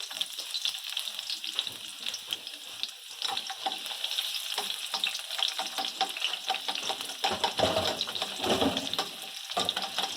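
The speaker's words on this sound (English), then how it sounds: "Here we're gonna put the rest of the onions." Onions frying in canola oil for oriental noodles, a steady close crackling sizzle with occasional stirring scrapes running throughout, no talking.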